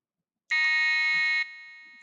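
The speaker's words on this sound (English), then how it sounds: "Hear the siren or hear the alarm." A model railroad crossing alarm sounds a single steady electronic tone for about a second, loud and close, then cuts off to a faint lingering ring.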